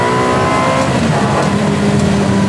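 A Ferrari 360 engine roars loud and close through a sustained high-revving burst, its throttle blipped, with a dense mechanical drone filling the whole stretch.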